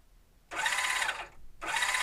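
A WLtoys 124301 1/12 scale military RC truck has a non-proportional throttle, and its electric motor gives two bursts of high, steady whining buzz with a short pause between them, close and fairly loud.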